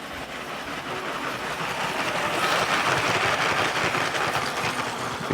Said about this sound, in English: All right, got the train coming here somewhere.